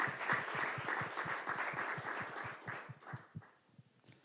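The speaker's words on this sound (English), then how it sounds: "let's give another round of applause for Karen Deep." An audience at a programming conference claps for a speaker, a fairly quiet steady patter of many hands that thins out and fades toward the end.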